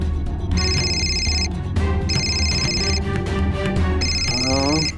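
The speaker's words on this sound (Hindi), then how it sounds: "दुबई से फोन आ रहा है" An electronic phone ringtone repeats three times in bursts, loud over a steady background of music and room noise.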